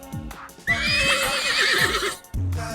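A mare lets out one long, loud whinny close by, surrounded by soft hoof clip-clops and stamping on the ground.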